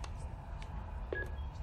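A phone being dialed in the horror video game Until Dawn: one short electronic keypad tone chirps about two-thirds of the way through, faint and brief over a steady low ambient rumble, with no talking.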